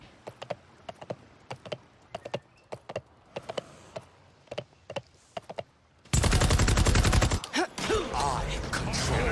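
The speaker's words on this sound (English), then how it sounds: "Enemy is firing on me!" Gunfire in the online shooter game Paladins: a string of sharp, evenly spaced shots rings out clearly, then a dense, loud barrage of rapid fire and impacts takes over for the final few seconds.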